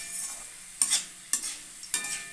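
Hand-cut shredded potatoes fry in a pan with a soft steady sizzle, broken by three sharp scraping stirs of a spatula at regular intervals.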